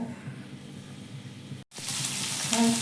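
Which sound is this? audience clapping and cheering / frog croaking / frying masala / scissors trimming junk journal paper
frying masala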